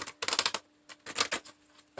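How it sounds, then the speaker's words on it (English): Tarot cards being shuffled in quick riffling bursts, two clusters of crisp papery flutters separated by a short pause, close and fairly loud with no talking. "I never shuffle them like that."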